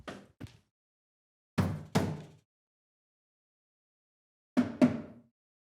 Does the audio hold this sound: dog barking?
no